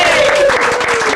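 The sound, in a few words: audience applause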